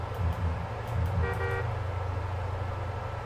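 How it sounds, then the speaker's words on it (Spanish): A car horn gives a few short honks in Far Cry 5, set over a low, steady engine rumble, with no voices. "Sé que no debería tocar el claxon"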